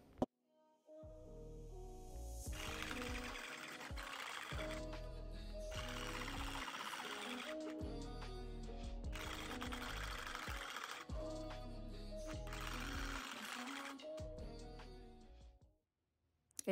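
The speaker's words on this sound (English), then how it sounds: "Every time you heard the needle like stop or skip, it wasn't able to keep going through the lock" A needle tool being worked through hair locs while installing permanent loc extensions, a steady mechanical buzzing in several long bursts that stop and restart, with brief pauses between runs and no talking.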